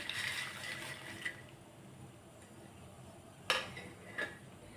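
Fried papad being added and stirred into a Kerala-style thoran in a pan, with soft scraping and a few light metallic clinks against the pan, quiet and intermittent.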